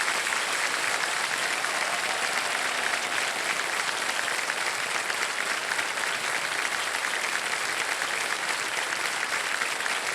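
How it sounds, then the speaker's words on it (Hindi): Studio audience at the KBC quiz show applauding a contestant, a dense, steady roar of many hands clapping that holds evenly throughout, no voices standing out. "और ताली बजती रहे इनके लिए"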